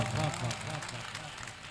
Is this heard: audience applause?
yes